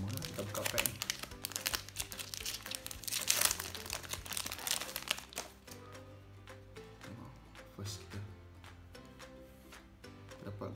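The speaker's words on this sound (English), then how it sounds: "kita buka pack ni" Crinkly plastic rustling and tearing as a Magic: The Gathering card pack wrapper is opened, loud at first and then settling into softer crackles and handling noise.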